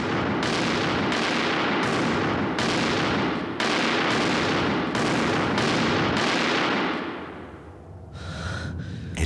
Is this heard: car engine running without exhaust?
no